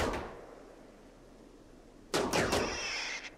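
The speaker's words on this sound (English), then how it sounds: "Charge rifle." Charge rifle firing in the colony game RimWorld, a fading shot at the start, a quiet pause, then a rapid burst of three or four sharp electronic-sounding shots close together.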